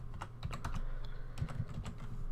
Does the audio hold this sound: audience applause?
no